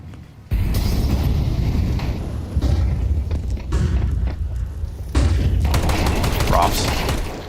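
Tec-9 pistol fire in a Counter-Strike esports match, several sharp shots and short volleys with thuds, heard under a caster's continuous commentary.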